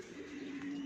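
Pigeons with new flight feathers, a flock of flying pigeons kept for sale, coo in a steady low murmur that runs through the whole brief moment, close and fairly quiet, with no talking.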